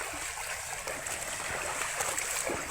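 Rainwater flowing along a stream, a steady rushing wash of water that holds evenly and close throughout, with no talk.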